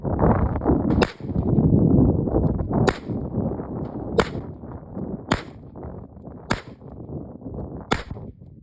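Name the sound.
Chiappa Rhino 9mm revolver firing Hornady Critical Duty 135 grain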